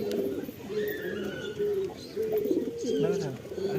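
Teddy and Andra breed pigeons cooing close by in a loft, with repeated low throaty coos rising and falling continuously over the whole stretch, while someone talks intermittently in the background.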